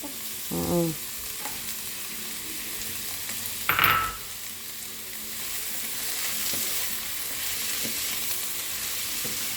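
Snow peas frying in a home cooking pan, stirred with a utensil: a steady sizzle throughout, with a few scraping clatters near the start and a louder clank just before the midpoint.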